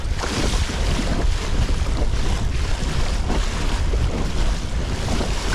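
Strong wind and big storm waves on a lake buffet a pedal kayak, an Old Town Sportsman 106 PDL, as a loud, continuous rush of gusting wind noise and crashing water fills the scene without any voices.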